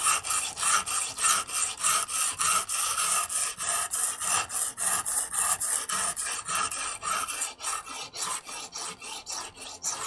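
A knife blade drawn by hand across a sharpening stone or file during bushcraft preparation, giving a steady run of close, rhythmic rasping strokes that repeat evenly throughout with no talking.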